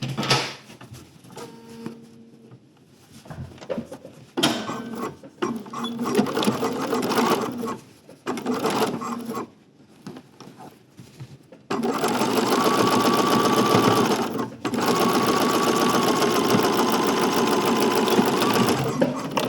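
A sewing machine stitches a waistband channel on linen pants. Short runs and handling noises alternate with pauses and some talk, then a long loud continuous run of stitching close up.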